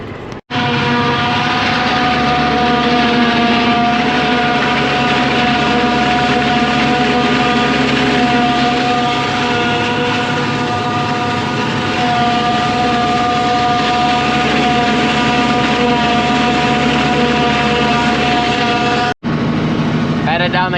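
A truck hauls a fully loaded air-ride dump trailer down a country road, its engine droning loud and steady with a sustained whine, while someone talks over it before the noise cuts off briefly near the end.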